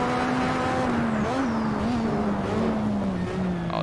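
A Lotus 98T race car screams through a lap in Assetto Corsa, its engine holding a steady high drone with brief pitch dips and rises through gear changes and corners, loud and continuous.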